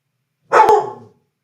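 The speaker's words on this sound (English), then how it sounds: "Oh, we got a dog in there?" A dog in a live podcast studio in Miami gives one loud, close, sharp bark that fades quickly into silence.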